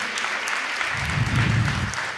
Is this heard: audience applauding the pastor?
yes